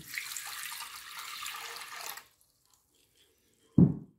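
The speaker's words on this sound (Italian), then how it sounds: "Quindi versiamo l'acqua." Water poured into the bowl of a Monsieur Cuisine food processor, a steady rushing splash for about two seconds that stops abruptly, followed by silence and then a single dull clunk, close and clear with no talking.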